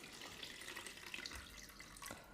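Soaking water is poured off a soaked ingredient in a home kitchen, making a faint, steady splashing trickle with a few brighter spatters.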